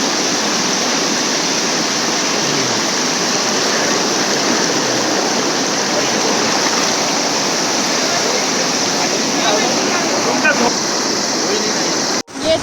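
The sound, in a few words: Yamuna river water rushing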